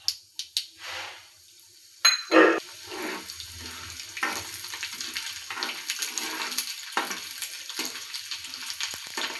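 Mustard seeds, chana dal and urad dal frying in hot oil for mango rice, a steady crackling sizzle after a few sharp clatters, close and moderately loud with no talk.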